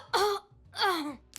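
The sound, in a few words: Tristana death sound, yelling in pain and exhaling, League of Legends video game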